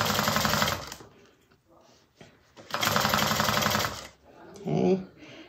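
A sewing machine stitches piping with a cord in a channel foot, in two loud bursts of rapid, buzzing stitching of about a second each, with a brief spoken remark between them.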